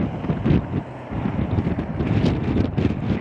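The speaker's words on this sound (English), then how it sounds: "it really is a windy day." Gusty wind buffeting a camera microphone outdoors by an interstate exit in Kingsport, Tennessee on a cold day, a loud continuous low rumble with surging bursts and no speech.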